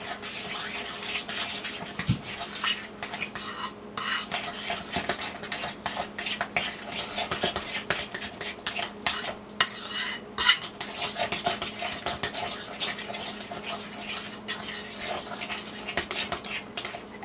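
Sugar and margarine or butter being mixed in a bowl for snickerdoodle dough, with busy irregular scraping and clinking of a utensil against the bowl, close and fairly steady, with no talking.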